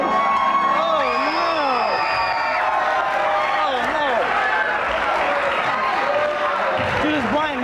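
A studio audience at The Richard Bey Show, a daytime talk show, shouts, whoops and cheers loudly and continuously, with voices rising and falling over a dense crowd roar and scattered clapping.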